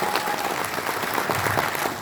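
An audience claps in a hall, a dense, steady patter of many hands at moderate loudness, continuous throughout without voices.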